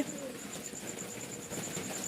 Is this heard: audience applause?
no